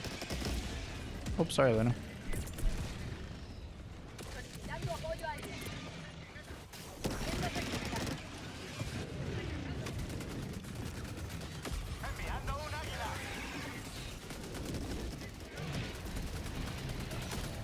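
Hip-fire gunshots in a third-person roguelike shooter crackle in scattered bursts beneath game effects, and a voice talks briefly partway through.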